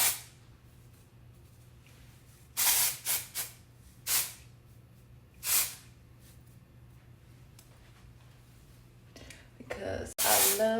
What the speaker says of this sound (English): Now I'm gonna hit it with some Philip B thickening finishing spray.